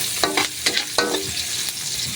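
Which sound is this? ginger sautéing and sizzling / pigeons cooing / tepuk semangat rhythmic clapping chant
ginger sautéing and sizzling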